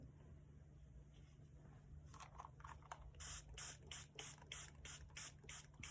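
A spray bottle sprays water onto embroidery fabric in a rapid series of short hissing bursts, close and fairly loud, after a quieter stretch of faint background noise.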